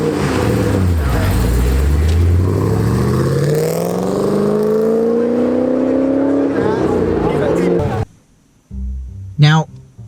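A Ford Mustang at a car meet roars loudly for about eight seconds, its engine note sweeping upward as it revs and accelerates nearby, then cuts out abruptly, leaving a brief quieter stretch with a short rising whine near the end.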